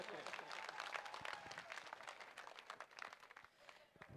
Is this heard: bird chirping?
no